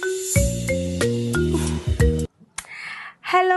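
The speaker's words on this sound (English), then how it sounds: "Oh, the phone." A mobile phone plays a loud melodic ringtone of repeated tonal notes. It cuts off, then brief sounds and a short resumption follow.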